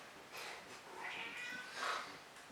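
A cat meows at people indoors, a few drawn-out, fairly quiet meows in quick succession with no talking over them.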